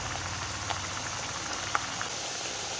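Rice flour snacks deep-fry in hot oil, a few pieces at a time, giving a soft, steady bubbling hiss with occasional tiny pops close by.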